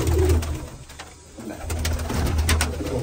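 Flying pigeons in a loft coo close by, with deep throaty coos rising and falling in several bursts over a busy backdrop of other birds.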